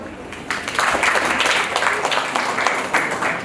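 An audience at a Rwandan traditional dowry ceremony breaks into applause, a dense, close burst of many hands clapping that carries on steadily for a few seconds.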